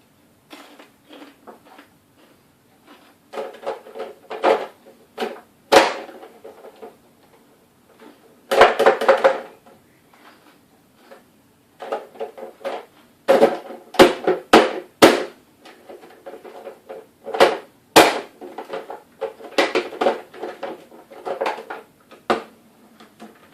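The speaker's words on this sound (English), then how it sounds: "So I'll cut the celery up to 1 inch slots." Celery stalks chopped into one-inch pieces with a knife, crisp knife strikes on a board coming in irregular bursts with short pauses, close and fairly quiet, no talking.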